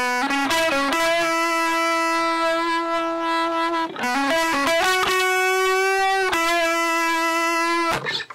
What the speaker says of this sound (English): Let's add in a phase shifter